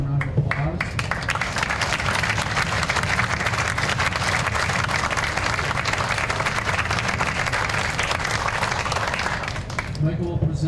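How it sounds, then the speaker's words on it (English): An audience at an evening lecture breaks into sustained applause, dense clapping from a sizable crowd that holds steady for about ten seconds before tapering off. "Let's hear a warm round of applause"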